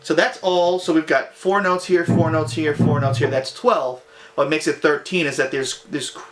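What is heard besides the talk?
No everyday noises stand out.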